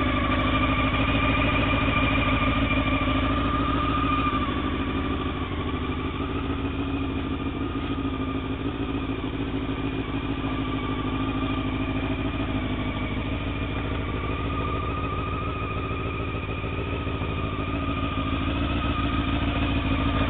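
A 2000 Honda CBR 600 F4 sport motorcycle fitted with a mesh modification idles steadily and close up, a continuous loud engine drone with no talking throughout.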